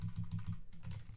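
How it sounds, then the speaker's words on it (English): Rapid clicking keystrokes on a loud computer keyboard, close and steady in a short burst, with no voices. "is the keyboard really loud?"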